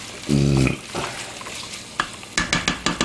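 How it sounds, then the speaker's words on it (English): Onions cook in a pan over moderate heat, sizzling under a few sharp spatula scrapes and a run of quick stirring clacks toward the end. No voices are heard. "you don't want to do the onions over too high of a heat because then they'll burn"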